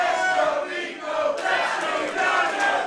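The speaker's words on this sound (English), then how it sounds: "You can hear the crowd here." Crowd at a live pro wrestling event roars and cheers continuously, a dense wall of voices that dips briefly then surges back, loud and close throughout.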